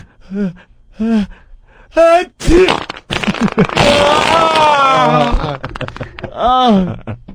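Exaggerated diarrhea farts and splattering bursts in a bathroom, loud and close, with wet sputtering blasts, a long crackling spray in the middle, and gasping, groaning vocal sounds between them.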